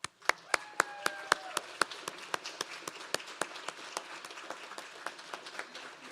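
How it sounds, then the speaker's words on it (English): Audience at a youth tour event clapping, a burst of sharp, distinct hand claps that settles into a lighter, steady patter of applause and fades toward the end. "Let's give them one more round of applause"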